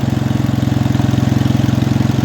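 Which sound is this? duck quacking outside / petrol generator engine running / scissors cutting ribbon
petrol generator engine running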